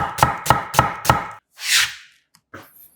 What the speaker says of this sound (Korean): 먼저 양파 반 개는 살짝 굵게 채 썰어 준비하고